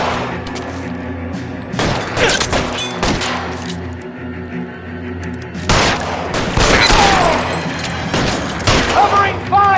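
Bursts of gunfire fill an LA Noire shootout, with loud volleys of shots and thuds arriving in clusters around shouted voices.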